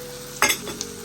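Onions frying in a pan for cheese noodles, a short burst of sizzling and stirring scrape that fades into a faint crackle with a small tap near the end.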